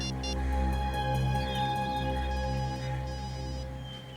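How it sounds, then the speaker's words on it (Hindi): A telephone rings steadily in an indoor crime-drama scene, its tonal electronic ring sustained and clear at moderate level over a low background hum, with no talking. "सर घंटी बज रही है।"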